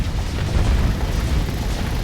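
Rumbling explosions from ships blowing up in a Starsector space battle, heard as a sustained low boom with no distinct separate blasts, loud and steady throughout without talk.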